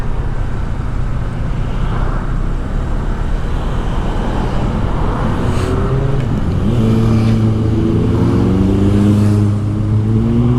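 Steady road traffic on a Tagaytay street, a dense rumble of car engines with vehicles revving and droning close by, swelling louder toward the end with no talk.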